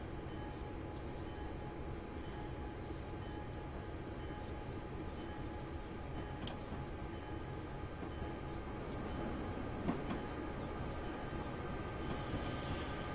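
A steady, low rumbling hum of a D&RGW GP9 diesel locomotive on Soldier Summit in Train Simulator 2015 rolls on continuously, with faint clicks and rattles over the track, even and unbroken throughout.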